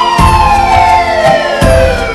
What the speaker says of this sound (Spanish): varios vehículos policiales haciendo sonar sus sirenas